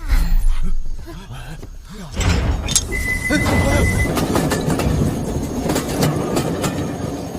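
A train rumbles into motion, its low roar building into steady clattering wheels and metallic rattles, loud and close, with muffled voices early on.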